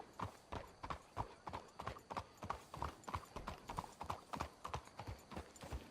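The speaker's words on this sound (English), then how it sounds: "Let's hitch the horses up ahead." Horses walk along in the video game Red Dead Redemption 2, their hooves clip-clopping in a steady, even rhythm of close, crisp strikes that continue throughout.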